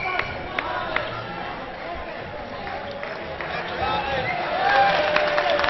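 A crowd watching a men's European Championship dodgeball match between Sweden and France woos and cheers at a moderate distance, a broad murmur rising toward the end, with sharp ball thuds and a commentator talking over it.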